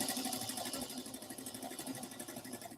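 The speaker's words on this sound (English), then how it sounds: "So I'm sewing a pillowcase cover" A sewing machine stitching a decorative pillowcase cover, running steadily with a fast, even mechanical pulse throughout, fairly quiet and close.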